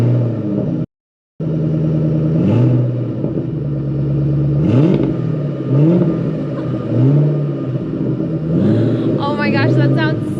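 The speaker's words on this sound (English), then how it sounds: "now we are gonna get a cold start on this" A 2003 Mustang SVT Cobra Terminator engine cranks over on a cold start and fires into a deep rumbling idle, with several throaty revs rising and falling while people talk nearby.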